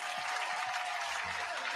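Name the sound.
round of applause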